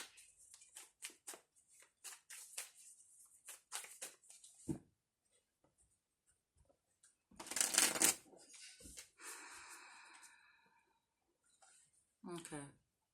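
Oracle cards shuffled for a spiritual reading, crisp riffling bursts close by with pauses between, a louder flurry midway and a short final riffle, with occasional soft speech.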